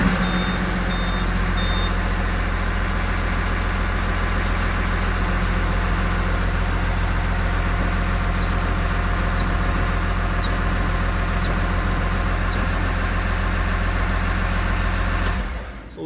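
A Caterpillar IT28G wheel loader engine running at a loud, steady drone, with a high reversing-style beeping during the middle section, before the engine cuts off abruptly near the end.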